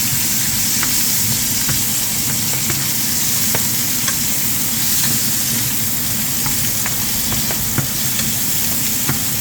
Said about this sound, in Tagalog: Sote-sote natin guys.